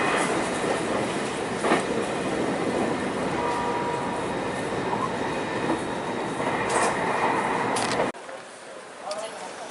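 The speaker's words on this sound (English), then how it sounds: "on board our train to Nagasaki" A Japanese train heading to Nagasaki rumbles steadily from inside the carriage, its loud, dense noise running continuously before abruptly dropping to a quieter hum near the end, with voices faintly underneath.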